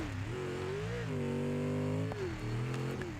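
Sim racing car running damaged, its engine note rising and falling with throttle inputs, a brief dip near the middle, moderately loud and steady.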